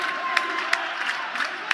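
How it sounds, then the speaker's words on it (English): Basketball crowd at the Ryan Center cheering on the Smithfield Sentinels boys' team during a state tournament semifinal, a steady roar with repeated sharp shouts and whoops rising out of it. "Crowd is exhorting the Sentinels on right below us here, the Ryan Center"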